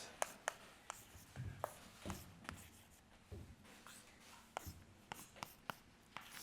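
Chalk or marker writing on a board during a mathematics lecture, a quiet series of sharp taps and short scratchy strokes in irregular rhythm, faint and at a distance in a hushed room.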